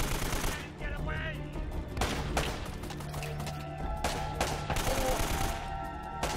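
Bursts of gunfire in the video game Uncharted: Drake's Fortune, rapid repeated shots and impacts over a tense game score, fairly steady and close.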